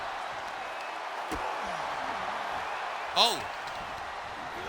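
Wrestling crowd in Philadelphia cheering at an independent pro wrestling show, a steady broadband roar of voices sustained throughout, with a brief louder swell and a short spoken exclamation near the end.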